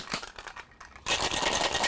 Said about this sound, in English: Add some ice, and then seal and shake.